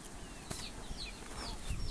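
Free-range chickens are fed outdoors, giving faint scattered clucks and short chirps over a steady outdoor background, with soft rustling and a brief flutter.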